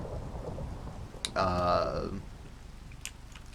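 A thunderclap from a lightning strike in Minecraft, rumbling for about a second over steady rain hiss, with a sharp crack at the start and faint ticks afterward.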